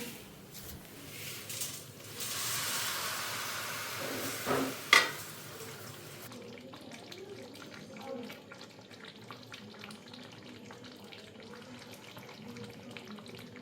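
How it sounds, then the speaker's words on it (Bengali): Hot water is poured into a sizzling pan of jackfruit and potato curry, making a loud hiss and bubbling for several seconds that then settles into a quieter, steady simmer. "এখন আমি এটার মধ্যে একটু গরম জল দেব"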